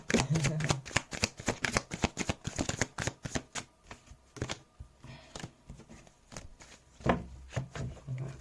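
Tarot cards are shuffled in rapid, dense riffling bursts close to the mic, then in slower, scattered flicks after a brief lull, fairly quiet throughout, with a voice faintly present now and then.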